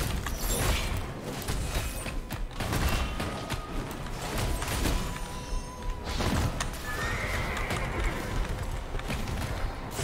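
A horse in the video game Diablo Immortal whinnies loudly over a dense, busy bed of game combat noise. Clip-clop hoofbeats and mechanical clatter continue throughout.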